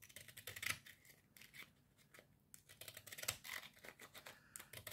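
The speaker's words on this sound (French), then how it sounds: "je donne un tour de, de ciseaux cranteurs tout le tour" Pinking shears snip around a piece of fabric, cutting through two or three layers at once in quick, crisp repeated cuts at close range, with light scraping between strokes.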